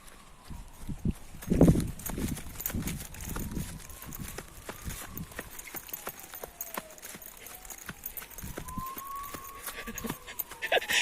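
An ambulance siren wails steadily in the distance, rising and falling in long slow sweeps over rhythmic clip-clop-like footsteps of someone running outdoors.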